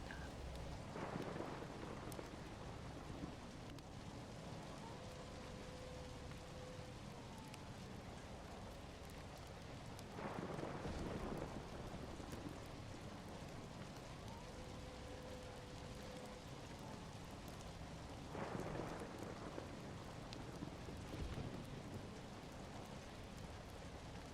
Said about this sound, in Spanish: La tormenta continuaba cubriendo las montañas.